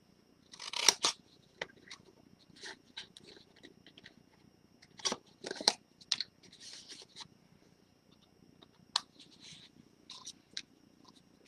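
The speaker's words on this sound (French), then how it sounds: "Et là, en fait, on vient simplement couper." Scissors cut through paper card for a card-holder box craft, giving several short, crisp snipping bursts spread apart, fairly quiet and close.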